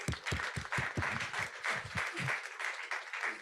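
An audience applauds after a presentation at a robotics and sustainability event, with steady clapping across the whole stretch and the low thumps of nearby hands thinning out toward the end.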